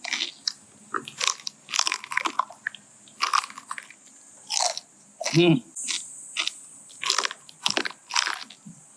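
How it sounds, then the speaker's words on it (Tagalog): Loud, close crunching bites and chewing of a crispy roast pig ear (lechon) in irregular bursts, with a brief murmur partway through. "Test natin yung tainga."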